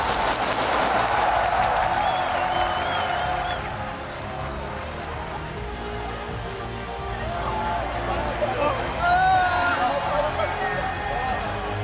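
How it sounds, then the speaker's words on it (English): A large crowd at the 2016 League of Legends World Championship grand final applauds and cheers continuously, a dense wash of clapping that stays loud throughout, with an excited voice shouting over it near the end. "the crowd's giving a standing ovation after that one"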